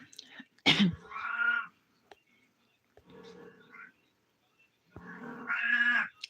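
A small cat meows indoors in two or three short, nasal calls separated by pauses, with a sharp sneeze-like burst near the start.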